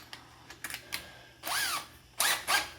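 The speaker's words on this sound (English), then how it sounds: "So I'm going to drill a hole." A hole saw fitted on a FastCap quick mandrel drills through material in several short, loud whirring bursts separated by pauses, with a few small clicks and knocks before the cutting starts.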